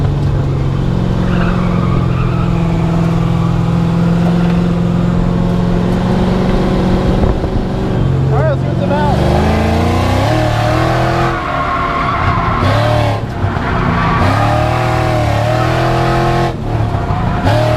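A V8-swapped Mazda RX7 drift car with a hydraulic handbrake and stripped cage roars loudly from inside as it drives, its engine revving up and down in repeated surges, with tires briefly squealing.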